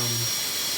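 An ADEC 532 dental unit handpiece driven by a foot rheostat gives a brief high-pitched whine that quickly fades out, close and steady, with a low tone dropping away partway through.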